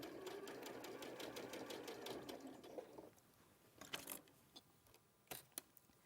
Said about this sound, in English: keeping that foot close to the side. And just sewing round.